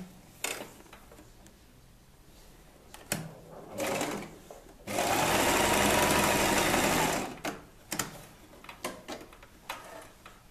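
A sewing machine stitches the fabric of a gypsy-style ruffled blouse: one sustained whirring run of a couple of seconds in the middle, framed by short clicks and handling noises, with no talk.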